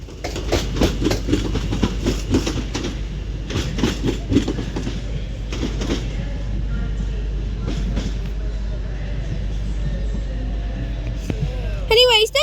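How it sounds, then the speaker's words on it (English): A pair of London Northwestern Railway Class 730 electric trains pull out of Crewe station, a steady rumble and clickety-clack of wheels running close by, with a rising whine near the end and voices talking over it. "them dual pairing of London North Western Railway Class 730s depart Crewe now"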